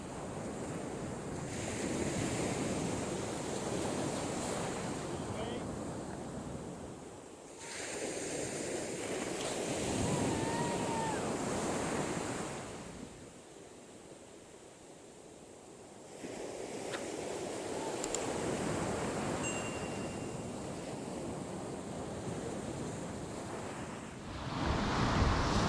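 Ocean waves break along a Florida beach shore at Vero Beach, swelling and fading in long, rushing surges with wind buffeting the microphone and no voices.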